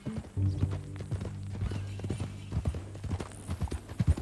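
Horse hooves clip-clopping in the Red Dead Redemption 2 video game, a steady near rhythm of hoofbeats on ground with a low hum behind, no talk over it.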